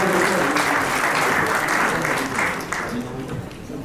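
An audience claps at a ceremony, a dense burst of applause that fills the room, then gradually thins and fades over a few seconds.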